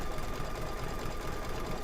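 An embroidery machine stitches a dragon egg quilt block from pre-cut fabric, a steady, rapid mechanical whirring and needle chatter running continuously and close by without pause.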